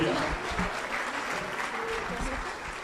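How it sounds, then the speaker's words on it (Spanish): Congregation in a church applauding together, a dense, sustained clapping that fills the room at steady strength throughout. "Ese aplauso es de gratitud a Dios"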